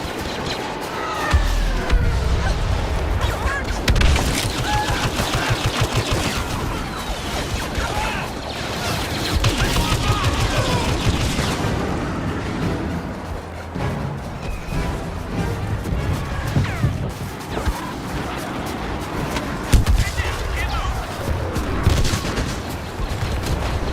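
Dense barrage of airstrike explosions and rapid gunfire crashes in a Star Wars Battlefront battle, loud and continuous with booms and cracks overlapping throughout, no speech.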